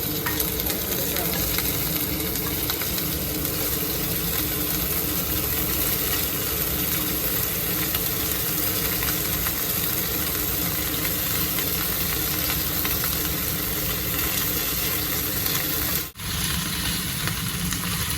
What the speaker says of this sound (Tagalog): fry the beef until turn to brown